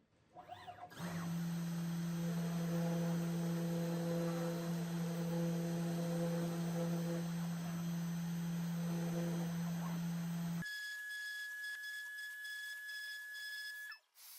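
A Genmitsu 4030 PROVerXL V2 CNC machine with Nema 23 closed-loop stepper motors and ball screws runs an engraving job, giving a loud, steady electric motor drone with tonal whine that shifts to a higher pitched tone near the end.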